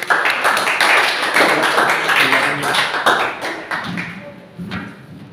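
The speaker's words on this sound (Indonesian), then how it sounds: "Aplaus buat narasumber 3, terima kasih." A classroom group in a sociology lecture applauds a speaker, a burst of brisk hand claps that thins out and fades over a few seconds, with a few voices mixed in.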